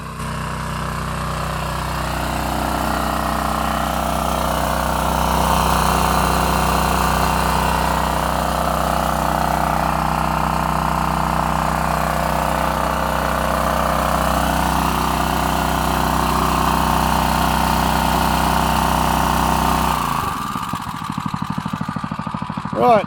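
A fire hose pump engine idles steadily and loudly for a long stretch, a constant mechanical drone that cuts out abruptly near the end.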